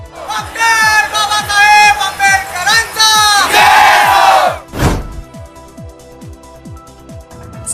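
A large crowd gathered in Solapur for Ambedkar Jayanti raises loud, rhythmic chanting and shouting in bursts, with repeated drumbeat-like thumps underneath, then a sudden burst and quieter background murmur.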